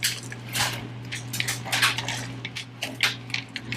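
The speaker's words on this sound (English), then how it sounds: "take a whole bag of these chocolate chips, dump them in, and mix them together." Chocolate chips being mixed into cookie dough make soft, irregular clicks, squishes and scrapes, close and fairly quiet, over a low steady hum.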